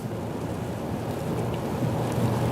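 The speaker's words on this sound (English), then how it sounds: "Yeah, obviously a lot of rain," Heavy rain pounds down during a thunderstorm near Acworth in metro Atlanta, heard from inside a moving SUV as a steady dense roar with a deep low rumble, continuous and loud, with no talk.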